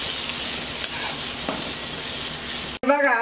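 Chopped onion frying in hot oil for a chivda snack, a steady, close hiss of sizzling with a faint stir stroke or two, then a sudden clatter near the end.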